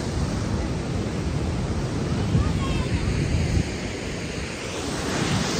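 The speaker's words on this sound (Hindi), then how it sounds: "और ये तो मेन झरना ही है।" The main waterfall in Nepal, a loud, continuous roar of rushing water with wind buffeting the microphone, steady and close throughout.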